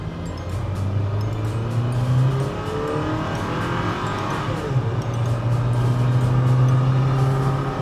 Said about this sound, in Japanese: 信号先頭になったら1回0キロから60キロまでフル加速してみます。